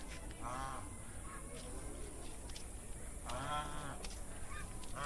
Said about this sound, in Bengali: ঢুকেই দেখতে পাবেন ডান দিকে কিছু রাজহাঁস সব পোষা আছে জলের মধ্যে।